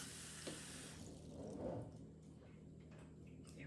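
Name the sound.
water being added to a steam canner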